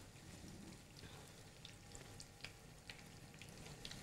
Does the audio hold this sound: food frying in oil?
yes